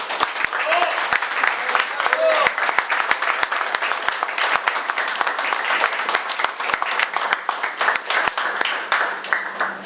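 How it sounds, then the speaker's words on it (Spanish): A crowd at a political assembly applauds union leader Enrique Fantini, dense sustained clapping, loud and close, with a voice faintly heard beneath. "para quien pido un aplauso"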